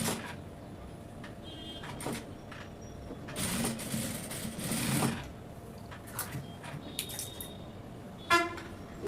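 A sewing machine stitches a princess cut blouse in one brief, moderately loud run of a second or two, with quiet handling sounds around it and no talking.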